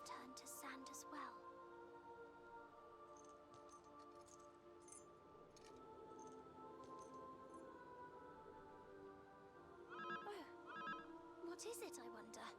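A cell phone rings in the video game Dragon Quest Monsters: The Dark Prince. Bursts of electronic ringing come in short repeated clusters over a soft sustained musical background, quiet overall, with a brighter ring burst near the end.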